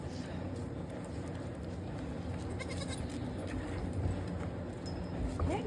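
Kid goats, Toggenburgs, bleat at bottle feeding time on a farm amid constant barn noise, with scattered faint cries rising now and then over a steady murmur.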